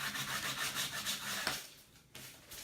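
A wooden Christmas sign being sanded gives a steady, close, rasping rub that shifts in strokes and eases toward the end, with no voices.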